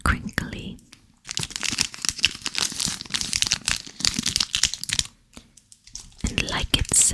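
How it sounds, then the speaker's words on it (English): Coffee Crisp candy bar wrapper crinkled close up in steady rustling bursts, with brief pauses, under soft whispered talk. "Get some crinkly."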